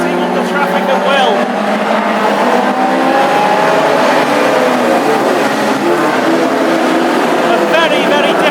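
Classic Hot Rod race cars roar around the wet Hednesford oval during a championship final, loud engines revving and passing continuously while a commentator talks over them.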